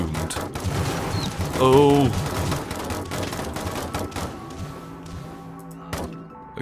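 Bursts of gunfire from Totally Accurate Battle Simulator crack out in irregular volleys amid a busy game mix with chirpy tones, heavier at first, then sparser shots toward the end, with a short spoken exclamation.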